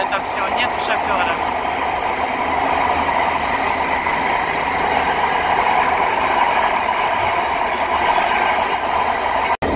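A driverless metro train in Istanbul rolls along at speed, a continuous rushing roar with rattling underneath, heard from inside the front carriage with people talking faintly.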